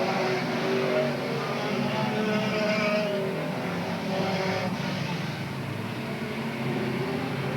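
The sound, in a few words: race cars racing on a speedway track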